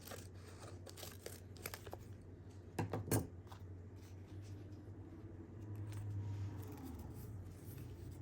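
Scissors snip through a paper ruffle being trimmed for a junk journal, a few quiet clustered cuts and crinkles in a hushed room, faint and close, with no talking.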